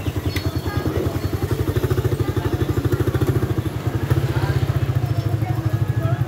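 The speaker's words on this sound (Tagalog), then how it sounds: "Ilagay mo yung motor dito" A motorcycle engine idles close by with a steady, rapid low putter while it is shifted into position at a roadside store, the chugging running throughout with faint clatter over it.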